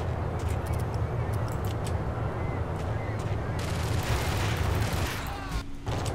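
Gunfire in the shooter game Max Payne, heard as a rapid, continuous barrage of shots. It is loud and close, with a low rumble beneath and a voice speaking briefly near the end.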